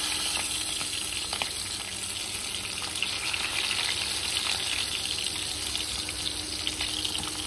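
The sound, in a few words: frying dry chillies, bay leaves and cumin for egg curry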